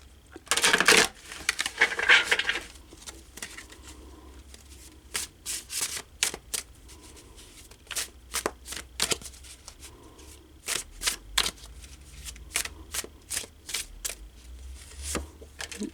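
Large tarot cards are shuffled by hand, close and fairly quiet. A couple of longer riffling bursts open the clip, followed by a long series of short, crisp flicks and taps at an irregular pace.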